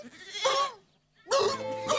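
Two loud goat bleats, the first around half a second and the second longer and wavering, separated by a brief silence.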